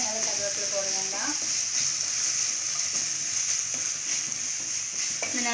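Plantain pieces sautéing in a pan with a steady soft sizzle and occasional scraping stirs, fairly close and continuous throughout.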